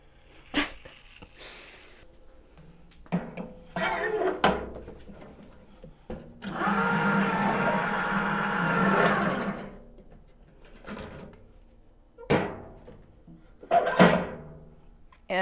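Cannular Pro semi-automatic can seamer sealing a beer can: a few sharp clunks and clicks as the can is set in place, then a whirring mechanical roll lasting several seconds, followed by more knocks and clacks; no talking.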